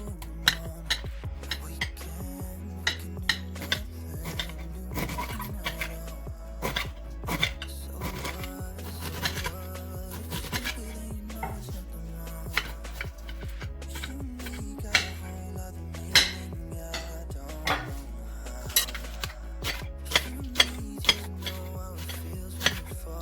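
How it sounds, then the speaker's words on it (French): A knife taps and clicks on a board while tomato, carrots and other vegetables are cut for a baking dish, with scattered light clinks of dishes in a quiet kitchen and no talking. "Je vais ensuite découper la tomate"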